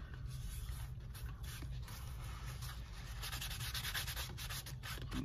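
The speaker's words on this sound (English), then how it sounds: "I usually kind of ease those edges on the grinder." A powered grinder eases the edges of a leather knife sheath, giving a steady, continuous abrasive sanding rub over a low motor hum with small surges in intensity; close and fairly loud, with no speech.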